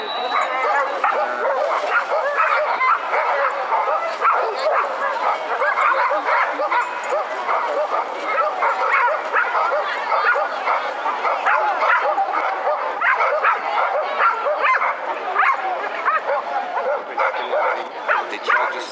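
Rescue dogs in training in Tuscany bark and yip without pause, a dense chorus of excited, high-pitched bow-wows and whimpers that goes on for the whole stretch.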